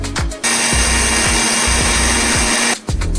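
A kitchen mixer grinder loudly whirs as it grinds roasted spices and turmeric into powder for a Mangalorean shellfish sukka masala. Steady motor roar runs for about two and a half seconds between brief stops and starts, with no talking.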